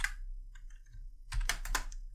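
Keystrokes on a computer keyboard while entering CSS code, a faint sparse pattern of clicks early on, then a denser burst of rapid typing taking over the second half.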